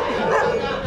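A dog in a Vietnamese neighbourhood gives a quick, close yipping bark that blends into a brief whimper.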